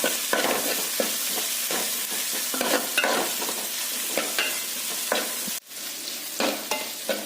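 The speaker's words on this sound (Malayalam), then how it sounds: "2 പച്ചമുളക്, കുറച്ച് വെളുത്തുള്ളി ഒന്ന് നല്ലോണം നമുക്ക് വഴറ്റി കൊടുക്കാം" Crushed ginger, green chillies and garlic sizzle loudly in a pan for crab fry, with frequent sharp spoon scrapes and stirring knocks over a steady frying hiss.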